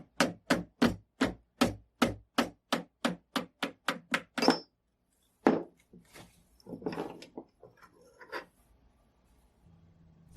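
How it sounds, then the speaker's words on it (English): A hammer taps the front band off a Mannlicher 95 rifle stock: about seventeen sharp, evenly spaced metallic-wooden knocks that speed up slightly, then a pause, one more tap, and some scraping and rattling as the band slides free. "I'll take the bands off, starting with the front one. Just a few taps and it comes off."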